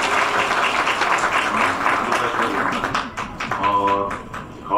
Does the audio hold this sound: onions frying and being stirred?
no